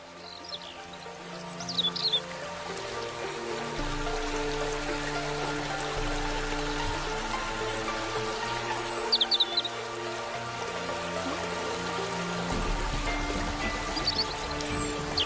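Magical waterfall in a Hindi cartoon, a steady soft rush of falling water with sustained musical tones beneath and occasional bright bird-like chirps, moderately quiet and continuous.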